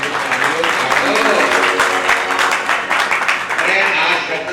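Audience clapping at a Guru Purnima festival gathering, dense and sustained throughout under loud voices and devotional chanting, a continuous wash of many hands.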